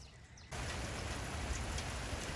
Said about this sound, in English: it's already starting to drizzle